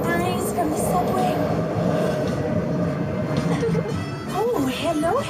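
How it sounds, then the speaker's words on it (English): A subway train roars past on a Universal Studios backstage tour set, a loud sustained rumble and rush of the cars, with a voice talking over it near the end. "Don't you just love the breeze from the subway?"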